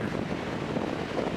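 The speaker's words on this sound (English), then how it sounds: "You can hear that wind and you can see that wind." Steady wind gusting across a cold mountain overlook at dawn, a broad rushing hiss with mild buffeting on the microphone, continuous and fairly loud throughout, with no voices.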